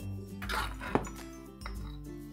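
A Kaiserschmarren pancake flips in a pan with a soft thud and one sharp clink of utensil on metal, faint and quiet against a low kitchen background.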